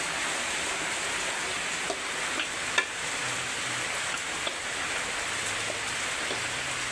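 Flour roasts in ghee in a pan with a steady, even sizzle and soft crackle, punctuated by faint scraping taps of stirring throughout.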